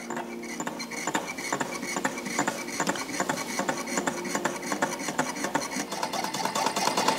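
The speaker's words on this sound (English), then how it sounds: "the hotter, faster-moving molecules in the coffee to heat up the lower chamber of the Stirling engine, thereby moving a piston and spinning the wheel" A small Lego Stirling engine running on the heat of a mug of hot coffee, giving a steady, fast mechanical whir with a regular ticking rhythm, close and fairly quiet, with no one speaking.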